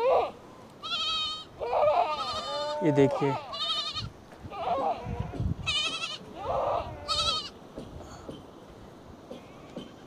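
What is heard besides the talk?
goat kid bleating for its mother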